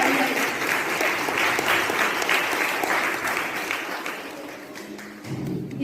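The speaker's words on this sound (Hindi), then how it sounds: "दीदी के लिए तालियां" Audience applause at a New Year program at Om Shanti Bhawan in Indore, a sustained burst of many hands clapping, dense and fairly near, fading slightly toward the end.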